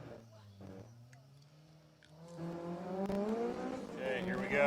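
Honda S2000 race car with a K24 engine and nitrous accelerating hard off the starting line at a racing event, engine note climbing steadily and growing louder toward the end, with crowd and announcer sounds underneath.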